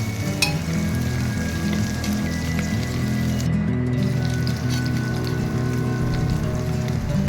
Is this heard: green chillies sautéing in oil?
yes